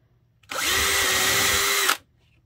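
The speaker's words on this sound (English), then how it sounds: "what I'm going to do next is grab my drill. And I'm just going to put a little hole right here." A power drill bores a small hole in a craft assemblage built on a vintage cookie cutter, one loud, steady whirring burst lasting about a second and a half, starting and stopping abruptly, with no other sound.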